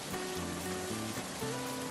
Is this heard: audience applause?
no